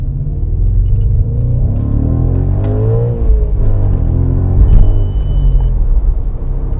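An Audi RS4 with a worn-out clutch is being driven. Its engine gives a loud, steady, deep rumble from inside the car throughout.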